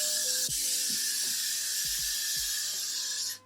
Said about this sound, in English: I'm gonna spray it a bit with some Got2b actually.